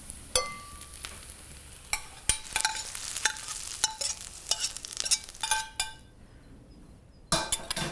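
Onions being tossed through warm wheat berries in a pan, with irregular scraping and clinking strokes over a soft sizzle, close by, ending in a brief quiet gap before a final clatter.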